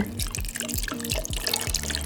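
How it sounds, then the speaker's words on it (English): Cachaça free-poured from a bottle into a cocktail shaker, a rhythmic glugging pour with about six to seven regular gurgles, close and clear, with no talking. "I'm going to go ahead and put cachaça in here and do my usual free pour"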